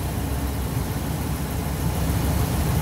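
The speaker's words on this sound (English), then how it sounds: "Idling is smooth. It just idles so smooth." A Ford 6.8-liter 415-cubic-inch V10 modular engine idles steadily, a continuous low rumble that stays even and smooth throughout with no voices.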